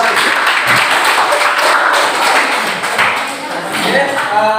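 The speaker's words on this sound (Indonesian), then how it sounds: "Kasih tepuk tangan untuk penampilan kelompok 1." Classroom audience applauding a student group's presentation, a broad, steady wash of clapping with some taps and thumps lasting several seconds, fairly loud throughout.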